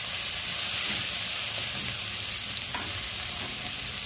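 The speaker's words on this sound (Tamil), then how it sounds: "காய் ஓரளவு வதங்கணும்." Vegetables for a white vegetable biryani sautéing in a pan, a dense continuous sizzle with occasional stirring scrapes, close and steady, with no talking.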